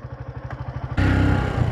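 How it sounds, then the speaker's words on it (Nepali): A motorcycle engine thumps in a fast, even pulse, then the ride turns into a louder, rougher rumble with rattling vibration. "भाइब्रेसन लास आइरहेछ बाइक के भएछ"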